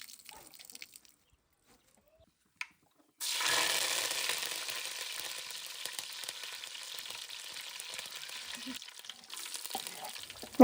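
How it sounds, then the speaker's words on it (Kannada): Ginger, garlic, green chilli and curry leaves frying for tempering, a steady sizzling hiss that begins suddenly after a quiet stretch and carries on close and moderately loud. "ನೆಕ್ಸ್ಟ್ ಒಗ್ಗರಣೆಗೆ ನಾನಿಲ್ಲಿ ಶುಂಠಿ, ಬೆಳ್ಳುಳ್ಳಿ, ಹಸಿರು ಮೆಣಸಿನ್ಕಾಯಿ, ದೆನ್ ಕರಿಬೇವು ಆವಾಗಲೇ ಸೇರಿಸ್ಕೊಂಡಲ್ಲ ಇದನ್ನೆಲ್ಲ ಸೇರಿಸ್ಕೊಂಡು ಫ್ರೈ ಮಾಡ್ಕೊತಾ ಇದ್ದೀನಿ."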